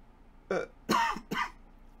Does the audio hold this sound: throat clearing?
yes